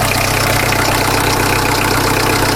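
A normally aspirated Peugeot 1.9 diesel engine with no turbo idles in a steady, loud, close clatter, keeping an even rhythmic knock throughout, with no talk.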